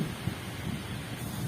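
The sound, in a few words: heavy rain and strong wind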